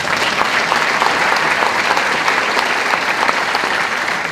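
A city hall audience at a mayor's State of the City address applauding staff, dense and even applause that holds steady throughout.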